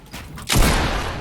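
A single loud, booming gunshot in Fortnite bursts in about halfway through and rumbles on with a broad, noisy tail, after quieter background sound.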